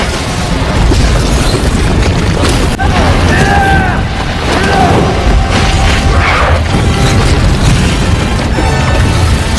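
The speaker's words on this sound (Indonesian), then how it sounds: "Pada akhirnya Ben berhasil melumpuhkannya dengan ledakan besar saluran gas." A big gas line explosion in a horror film scene, heavy booming rumble with crashing debris and mechanical noise roaring loudly throughout, with a few tonal cries or screeches mixed in.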